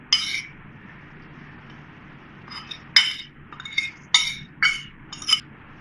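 Spoons clinking against a bowl as lemon juice, spices and garlic-ginger paste are stirred into a beef kebab marinade, with several distinct bright taps and scrapes in bursts, close and fairly clear.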